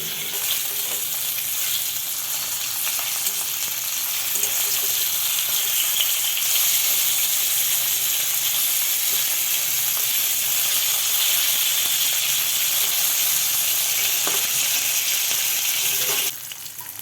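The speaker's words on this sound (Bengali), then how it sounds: "হালকা হালকা লাল লাল করে ভাজা হয়ে গেলে এক পাশটা উল্টে দিও, দিয়ে অন্য পাশটা ভাজতে দিও" Fish fries in hot oil in a kadai for a mustard fish curry, a dense, constant sizzle with crackling spits running steadily and close for the whole stretch, no voices over it.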